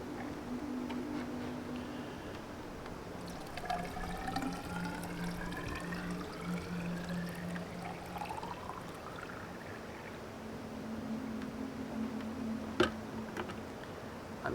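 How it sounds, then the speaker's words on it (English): Filtered water is poured into a solar kettle, a continuous close trickle and splash whose pitch rises steadily as the vessel fills, with a small clink near the end and no talk. "I have some filtered water here. I'm going to go ahead and fill it up."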